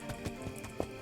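Horse hooves clop downhill on a steep slope as a radio drama sound effect, several uneven thuds in quick succession over a steady background hiss.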